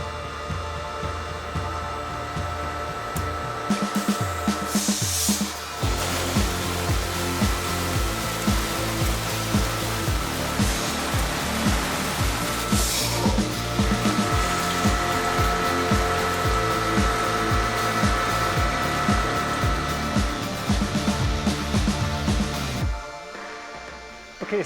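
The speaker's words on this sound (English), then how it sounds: "So this is the vacuum pump. It creates the draw for the sap to come into our storage tanks." A vacuum pump drawing maple sap into storage tanks starts up and runs loudly and steadily for over twenty seconds with a pulsing mechanical hum, then cuts off near the end.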